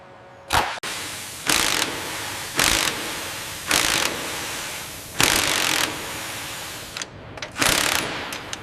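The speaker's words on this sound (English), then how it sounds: "I'm engaging the wrench now" Pneumatic wrench engaged in repeated short bursts while a CH-53E Super Stallion heavy-lift helicopter is assembled on a factory floor, about six loud, evenly spaced whirring pulses against a steady hum.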